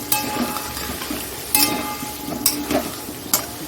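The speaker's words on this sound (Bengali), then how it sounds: "হলুদ দিয়ে একটু ভালো করে নাড়াচাড়া করে" Chicken with turmeric being stirred in a hot pan: a continuous sizzle broken by several sharp clinks and scrapes of a utensil against the metal, close and fairly loud, with no talking.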